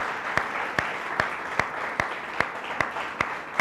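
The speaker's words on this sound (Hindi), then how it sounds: "ज़ोरदार तालियां" A church congregation at a Sunday service claps loudly, with a sustained wash of applause punctuated by sharp, evenly spaced unison claps at a steady beat.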